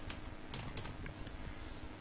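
Rapid, soft clicking of fingers typing on a computer keyboard, faint and steady for about two seconds with no voices.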